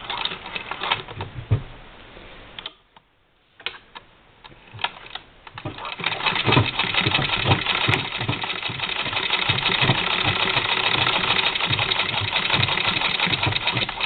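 A sewing machine fitted with a walking foot stitches through bulky sweater-quilt seams, its steady mechanical whir running loud and continuous, briefly pausing in the middle before resuming at an even rhythm.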